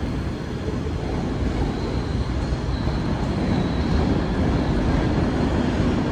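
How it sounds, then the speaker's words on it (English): A Class 320 electric multiple unit departs Glasgow Central station on the West Coast Main Line, a steady, broad rumble of wheels and traction that stays loud and continuous throughout, with no talk over it. "And also departing is the 320 to Glasgow Central."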